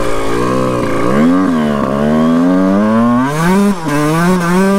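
A loud 1991 Honda CR 125 two-stroke motocross bike revs hard and continuously, its pitch rising and dipping as the throttle is worked, close up.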